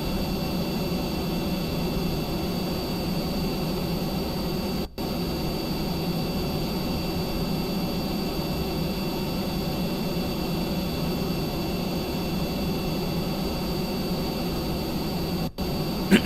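The jet engine of an F-104 replica in Kerbal Space Program roars as a steady, loud, broadband whoosh under thrust, unchanging throughout with no speech.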